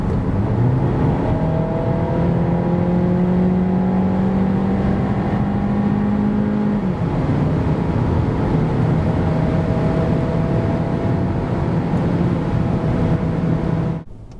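A 2023 Seat Ateca 1.5 TSI with DSG pulls hard from 90 to 140 km/h, the engine tone rising steadily, dropping once at a gearchange, then droning on under road and wind roar inside the car.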